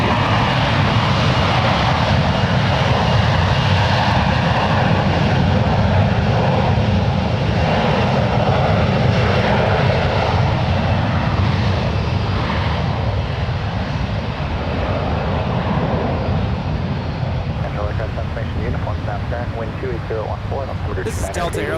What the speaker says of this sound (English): This is Delta Airlines Flight 1152 departing to Minneapolis. It's a brand new Airbus A321